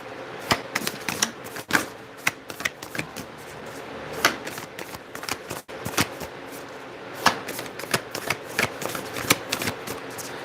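Tarot cards shuffled by hand during a reading, a steady run of crisp riffling snaps and soft slaps, close and fairly loud, with no voices over it.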